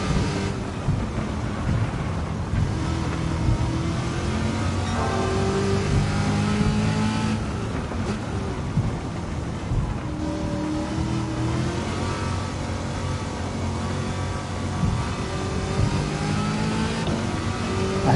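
A Corvette C8 engine revs in the Gran Turismo 7 racing game, a loud, continuous engine roar with shifting pitch that runs unbroken, with no talking.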